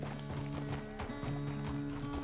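Hooves clip-clop at a steady walking rhythm as a horse is ridden in the video game Red Dead Redemption 2. The hoofbeats stay soft and close, over a quiet bed of sustained background music.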